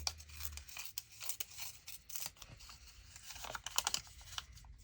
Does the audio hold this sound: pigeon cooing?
no